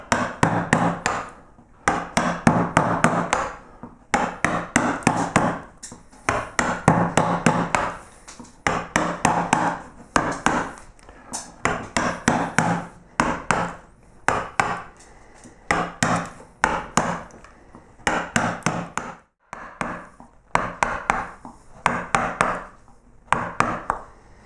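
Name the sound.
carving tool cutting wood, bosting in a flower swag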